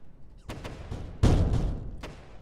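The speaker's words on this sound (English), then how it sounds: "Oh my gosh, the guns." Vehicle-mounted guns in TerraTech fire a few sharp bursts, separate cracks followed by a heavier blast that fades out, loud and close with no talk.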